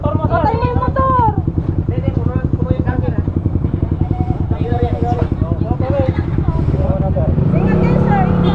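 A motorcycle engine idles close by with a fast, steady putter while someone talks over it in Tagalog, in Pangasinan, Philippines.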